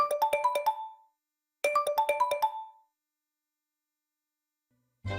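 A phone ringtone plays two bursts of rapid, bright electronic beeping, each about a second long with a pause between, loud and close, followed by silence and the start of a sound at the end.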